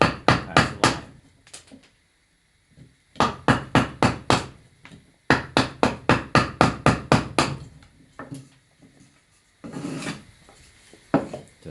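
A hammer drives a chisel into wood to cut out a notch, sounding as close, loud bursts of rapid evenly spaced knocks separated by brief pauses, then some scraping and lighter taps.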